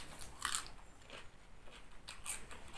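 Crunchy fresh vegetables eaten alongside spicy Thai papaya salad give sharp, close crunching bites at the start and again near the end, with quieter chewing in between and no talk.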